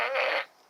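A toy fart gun lets out a single loud, buzzy fart blast of under half a second, alone with no talk, then trails off quickly.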